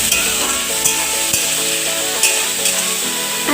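Bottle gourd curry is stirred in a hot pan after salt goes in, giving a steady sizzle with occasional scraping clinks of the spoon against the metal.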